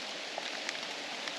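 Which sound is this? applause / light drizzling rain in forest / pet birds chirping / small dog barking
light drizzling rain in forest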